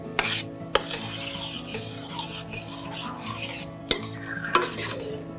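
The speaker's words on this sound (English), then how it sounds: "Give that a stir." Vegetables being stirred in a skillet: steady scraping and rubbing of a utensil against the pan, with a few sharp clinks of metal, close up and fairly quiet, with no talking.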